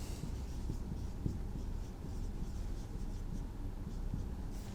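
Chalk or marker scratches across a board as equations are written in a lecture room, a faint continuous scraping made of short strokes, with no talk.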